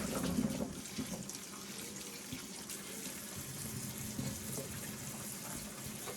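Fresh green beans are rinsed under a running kitchen tap over a large stainless pan, producing a steady close splashing rush with small shifts as the beans are moved.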